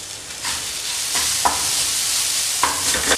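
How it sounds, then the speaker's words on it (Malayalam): Tomato and masala sautéing in a pan for chicken samosa filling give a steady close sizzle with a few sharp scrapes of a spoon stirring, no voices. "ഈ തക്കാളി ഈ മസാലയും കൂടെ നന്നായിട്ട് വെന്തുടയുന്നത് വരെ ഇതൊന്ന് വഴറ്റിയെടുക്കണം"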